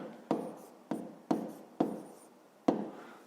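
Numbers written by hand for a fifth-grade maths exercise, five quick separate scratchy pen strokes on paper, close and quiet, with no talking.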